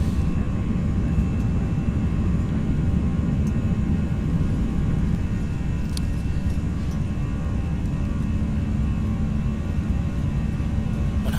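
Airbus A319 jet engines spool up to takeoff thrust in a flight simulator, a loud, steady broadband roar with a constant whine that holds unbroken throughout, no voices over it.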